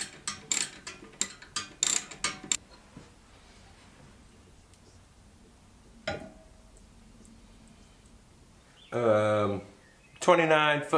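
A wrench ratchets rapidly while bolts are tightened on the rear arm of a Puch Magnum moped: a quick series of sharp clicks at the start, then quieter handling and a brief metallic knock, with short rattling bursts near the end.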